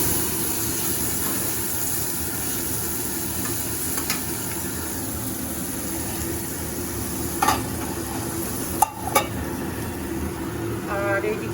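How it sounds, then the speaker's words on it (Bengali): Bitter gourd and brinjal frying together in a home kitchen pan, a steady low sizzle with occasional stirring scrapes and a few sharp clinks near the end. "উচ্ছেটা বেগুন দিয়ে ভাজা করছি।"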